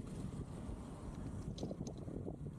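Faint, steady wind rushing past the microphone during a bike ride, a low continuous roar with slight gusts and no voices.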